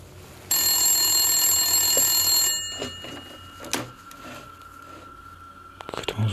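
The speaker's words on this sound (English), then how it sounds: "phones ringing incessantly" A telephone bell rings loudly for about two seconds, then stops, leaving quiet room sounds with a few soft clicks and knocks.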